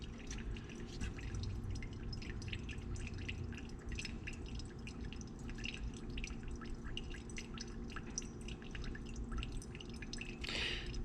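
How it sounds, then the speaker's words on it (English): Gasoline draining from the fuel system of a 2004 Suzuki LTZ250 ATV, heard as steady close-up dripping and trickling with faint bubbling, quiet and continuous without any talk. "And the way this thing's bubbling, it looks like there's water in there."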